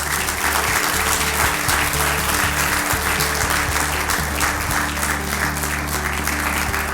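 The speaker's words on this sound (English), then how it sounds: "Another warm round of applause for our panelists." Sustained applause from a seminar audience for a panel of speakers, a dense, loud patter of clapping filling the room throughout.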